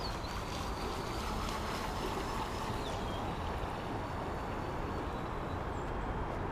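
A small motor of a 17-inch RC boat on a 2S battery whines faintly above a constant wash of churning water as it chops through its own wake, steady and fairly close, with no talking.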